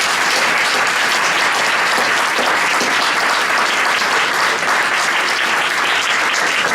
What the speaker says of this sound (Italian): Facciamo un grande applauso per lo tecnico